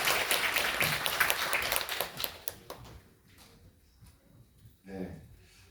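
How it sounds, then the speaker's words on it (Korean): Audience applause at an education symposium session in Korea, dense clapping for about two and a half seconds that tails off into quieter room sound, with a short burst of noise near the end. "힘찬 박수 부탁드립니다."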